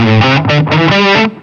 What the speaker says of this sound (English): And just for good measure, here's distortion.